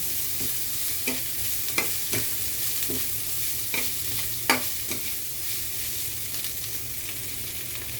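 Chicken breast sautéing in a pan with little oil while noodles are prepared, a steady near sizzle broken by scraping stir strokes at irregular intervals.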